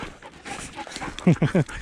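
A dog that has been out wandering pants close by in three quick, rhythmic breathy bursts, following a stretch of faint snuffling and movement, loud and near, with no clear talk over it.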